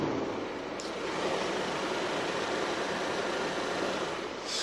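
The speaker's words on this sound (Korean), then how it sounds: "이 정도의 엔진 소음 만나보실 수가 있습니다" An Audi A5 gasoline sports coupe with 4WD and about 50,000 km idles with its engine bay closed, giving a quiet, smooth, even hum that holds steady for several seconds.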